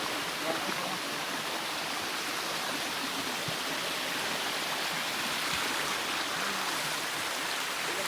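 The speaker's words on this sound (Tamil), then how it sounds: "தண்ணி ஓடுது" Water rushes continuously in a stream at Thada Falls, a steady hissing flow with no pauses, fairly close and moderately loud.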